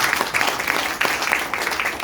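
An audience at a business seminar applauding, a dense, steady wash of many hands clapping at once, loud and continuous for about two seconds with no voice over it.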